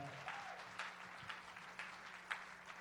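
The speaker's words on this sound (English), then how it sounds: "Keep that round of applause going" Clapping from a gala audience after a spoken-word poetry performance, fairly faint and scattered with a few sharper claps standing out, short and continuous.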